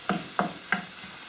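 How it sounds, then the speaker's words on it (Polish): Bay bolete mushrooms frying in a pan for a creamy mushroom and pasta dish: three short, evenly spaced stirring scrapes rise over a soft, low sizzle. "Grzybki nam się smażą."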